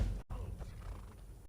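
Horse whinnying in the video game Skyrim, set amid an Imperial Legion battle, with hoofbeats and a loud, close whinny running for about a second and a half.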